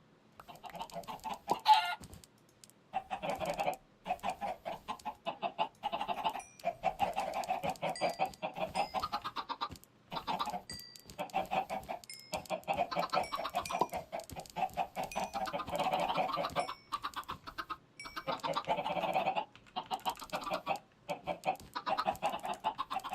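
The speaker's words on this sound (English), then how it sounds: "I'm gonna go feed the chickens again." Chickens in the Minecraft ATM10 modpack cluck repeatedly and fairly close, a steady series of short clucks with brief pauses across the whole stretch, with no talking.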